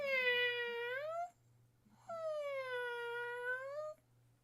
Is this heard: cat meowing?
yes